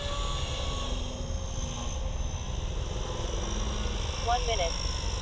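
Blade Fusion 180 Smart RC helicopter hovering on its maiden flight at low head speed, a steady whirring rotor drone running throughout at moderate level.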